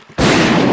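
A single loud gunshot from a gun fires suddenly after near silence, close and harsh, with a burst that stays loud to the end of the short cut and no voices.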